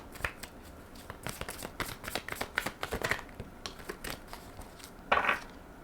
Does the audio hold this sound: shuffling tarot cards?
yes